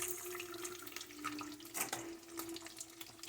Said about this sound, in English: I got raw egg all over my hands, so I'm gonna wash my hand one more time